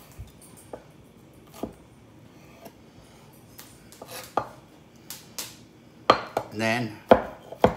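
A kitchen knife slices jalapeños into thin ribbons on a cutting board, a string of crisp separate chops that speed up into a quick close run near the end, with one short spoken phrase.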